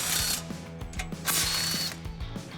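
Ratchet or power driver backing out two 16mm bolts from a metal guard on a 2018 Jeep Wrangler JL, a close, fast mechanical whir with repeated clicking strokes throughout, no talk.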